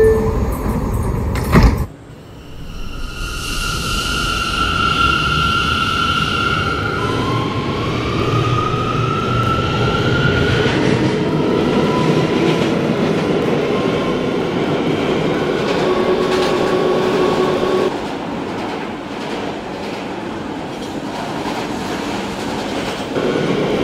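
An R179 C local subway train runs steadily toward Euclid Avenue, a loud continuous rumble with rising motor whines and rail clatter, after a sharp thump near the start.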